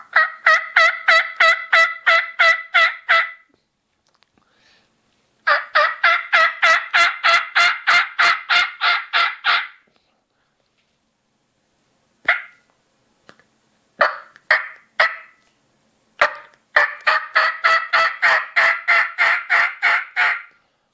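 Turkey mouth call imitating a loud monotone hen locator, several series of rapid evenly spaced yelps, near and loud, separated by short pauses and a few broken, scattered notes.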